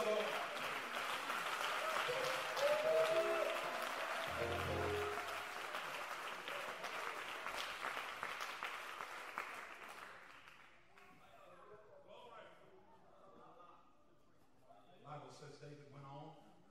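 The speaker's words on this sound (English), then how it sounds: "Come on, clap your hands to the Lord." A church congregation clapping hands during a sermon, a loud continuous wash of applause with a voice over it for the first half, then fading into quieter talk and a few scattered sounds.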